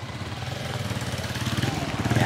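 A motorcycle engine runs steadily with a rapid pulsing putter that grows slightly louder toward the end, heard at moderate distance beneath a faint murmur of background voices.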